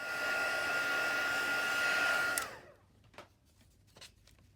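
A hair dryer blows on paint in a Bible journal with a loud, steady whir for about two seconds before switching off. A few faint taps and handling sounds follow.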